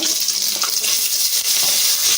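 Garlic and curry leaves hit hot oil for a spice tempering, giving a steady, loud, broadband sizzle that fills the moment with no talk.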